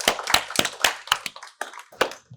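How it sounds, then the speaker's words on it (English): A small audience claps to welcome two speakers at a live entrepreneurship talk, giving a short, uneven round of hand claps that rises at the start and then thins to a few scattered claps. "So if we could just have a little round of applause to introduce our two speakers for today"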